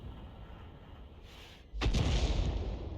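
An SU-8 self-propelled artillery gun in a World of Tanks-style video game fires once after a quiet stretch, a single heavy, booming shot followed by a rolling low rumble.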